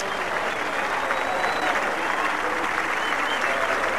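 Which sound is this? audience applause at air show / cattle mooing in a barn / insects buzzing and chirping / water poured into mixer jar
audience applause at air show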